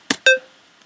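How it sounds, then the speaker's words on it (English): Two short synth plucks, the second a bright, punchy tone with a quick decay, then near silence. "just a really plucky, punchy synth."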